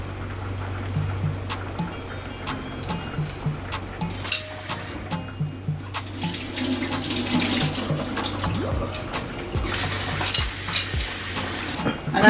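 Parboiled brown rice being washed in a pot under a running kitchen tap, with a steady stream of water, grains swishing and clinking against the pot, and intermittent stirring and splashing throughout.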